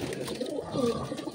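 Pigeons in a loft cooing close by, soft low throaty coos that overlap in a continuous murmur through a brief stretch, with no voices.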